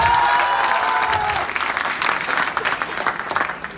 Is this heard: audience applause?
yes